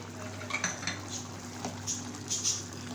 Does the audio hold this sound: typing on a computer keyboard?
no